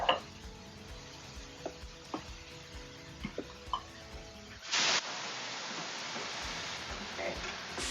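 Ground beef browns in a nonstick pan for sloppy joes, a soft sizzle under scattered spoon scrapes and taps, then a louder, steadier frying hiss takes over for the last few seconds.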